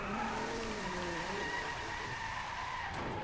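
Car tires skidding and squealing through a drift that turns into a spin-out in the racing game Drive Club, a sustained wavering screech over a steady engine roar, loud and close, with no talking.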